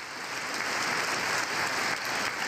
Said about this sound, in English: Fetterman and that other lady are having a clap off over there.